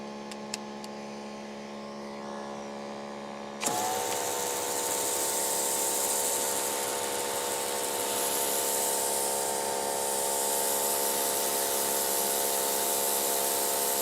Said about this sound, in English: I'm still impressed with how quiet this motor is while we're doing all the pressure washing